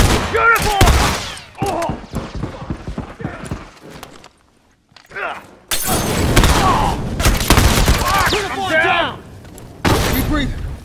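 Gunfire in The Last of Us Remastered video game crackles as repeated sharp, loud shots and bursts, mixed in with characters talking throughout.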